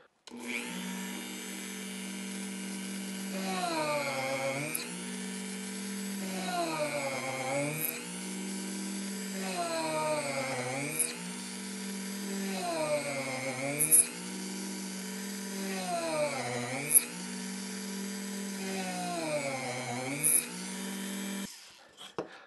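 A Dremel rotary tool mounted in a drill press whines steadily at high speed while drilling six holes, its pitch dipping and recovering in a regular cycle as each hole is bored, then winding down at the end.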